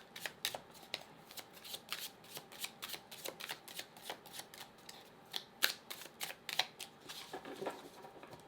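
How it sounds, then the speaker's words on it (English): Tarot cards being rip-shuffled, producing a long run of quick, crisp riffling snaps in an uneven rhythm, fairly quiet and close, with no talking. "I feel like I had to rip shuffle one more time."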